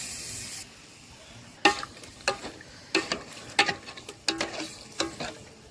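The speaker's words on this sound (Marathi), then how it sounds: "इथं मस्त आपली मटणाची भाजी फोडणी दिली चुलीवरली" Mutton curry tempering crackles in a pot on a wood-fired clay stove, a low sizzling hiss broken by a run of sharp, rhythmic stirring scrapes, close and without speech.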